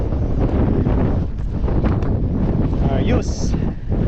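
Strong wind roars steadily across a microphone on a fishing boat out on the water, a loud buffeting rumble that runs throughout, with brief rustling and a faint high whine partway through.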